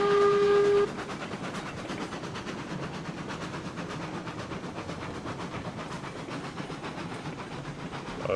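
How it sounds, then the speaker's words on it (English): A steam locomotive whistle blows in the RailRoads Online video game while the engine crawls up a hill. It opens with a loud, steady tonal blast, then gives way to continuous chugging rail noise with no talk. "Maybe hitting a whistle will give us a little more power."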